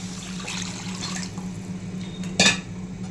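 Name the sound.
pouring water into onion-tomato masala for vada curry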